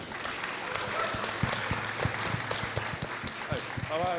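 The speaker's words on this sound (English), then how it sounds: "a big round of applause for our panellists" Conference audience applauding panellists at an esports event in London, a steady wash of clapping from many hands across the room, with a voice speaking over it.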